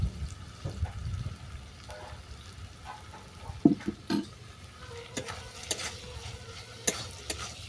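Chicken masala is stirred into crab curry with bitter gourd in a pan, giving soft scraping and occasional utensil knocks against the pan over a low sizzle, with no talking.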